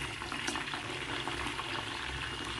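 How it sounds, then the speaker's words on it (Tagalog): Lechon kawali, Filipino pork belly, frying in hot oil: a soft, steady sizzle and bubbling hiss that stays even and fairly quiet throughout, with no voices. "At i-fry na natin ang ating lechon kawali."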